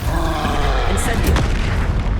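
Incendio fire spell in Hogwarts Legacy, a heavy booming burst of flame with a deep rumble and a brief bright flare, set amid fast combat with a voice shouting over it.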